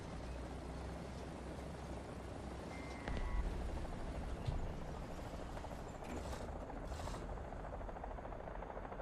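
UH-1C helicopter in the War Thunder video game, a continuous rotor and engine drone at a distance, fairly faint and steady with a few brief game effects layered over it.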